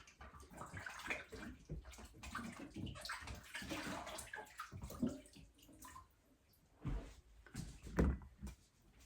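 Canning jars are washed under running water, with irregular splashing, clinks and gushes of water, fairly quiet and close with uneven bursts.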